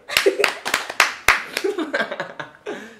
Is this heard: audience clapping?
yes